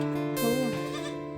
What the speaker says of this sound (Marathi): हो माय बकऱ्याची पिल्लं ह्यात वाटते.